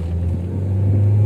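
Toyota Altis car exhaust revving in a workshop, a deep steady rumble close by that builds slightly in loudness over a brief moment.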